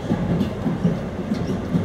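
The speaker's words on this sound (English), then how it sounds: "This is a Rockaway Boulevard bound shuttle train." An R211 subway shuttle train on the Rockaway line runs with a steady low rumble and rhythmic clatter of wheels over rail joints, heard from inside the car.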